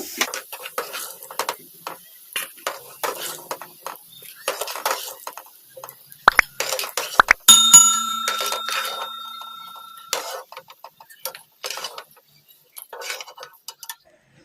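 A utensil scrapes and clinks against a pan as fried potatoes are lifted onto a plate, with a run of close metallic taps, then a sharp ringing clang and a few quieter scrapes.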